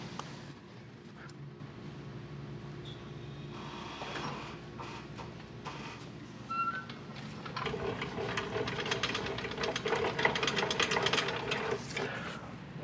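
A 1,500 pound capacity trailer tongue jack being cranked down, a steady ratcheting and grinding crank that grows louder and busier toward the end, close by with no voices.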